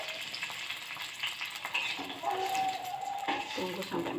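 Spices sizzle and fry in a pan, then a splash of added water makes a sharper hiss that carries on with steady crackling, close and continuous.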